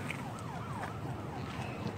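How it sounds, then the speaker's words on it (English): An approaching ambulance siren wails faintly in the distance over steady background noise, with its pitch sweeping up and down continuously. "Here come the ambulance."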